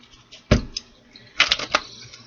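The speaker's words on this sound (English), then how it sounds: "Let's do one more shuffle." Oracle cards riffled and shuffled by hand at close range, two short bursts of crisp papery flicking separated by near silence.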